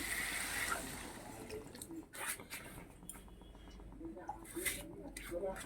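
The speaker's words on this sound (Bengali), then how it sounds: "এবার আমি জল দিয়ে দিচ্ছি" Water poured into a cooking pan of spiced, fried-down curry in a home kitchen, a steady wet splashing and sizzling texture running through the whole stretch, moderately loud and close, with no talk over it.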